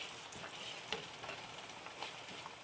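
Green peppers and potatoes cook in a pan with a soft, steady sizzling hiss and faint crackles, fairly quiet and without talk.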